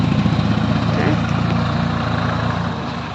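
A tractor engine idling nearby with a steady low chugging rumble, heard under people talking.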